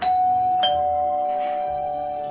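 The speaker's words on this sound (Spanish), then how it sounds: "Le voy a tocar el timbre de nuevo." A doorbell rings out with two clear chimes, the first tone sustaining and ringing on afterward, loud and close with nothing else heard.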